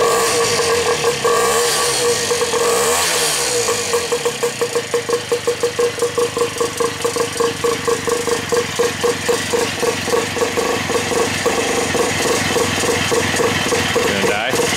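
Small snowblower engine on a homemade gas rat bike rattles and putters close by, revving briefly, then settling into a fast, steady idle throb that continues to the end.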